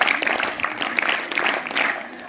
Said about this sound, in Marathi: 3 टाळ्या.